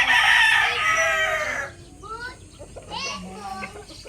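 A rooster crows loudly for about a second and a half, then softer clucking and a voice follow in the background.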